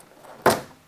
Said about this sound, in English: using either your hand or a large flathead, you can pry off the door card.